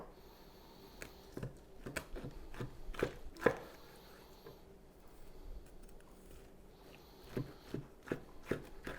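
A knife cuts through smoked beef short ribs on a board, giving scattered close thumps and taps, a few firmer chops in a cluster near the middle, over a quiet background with no talking.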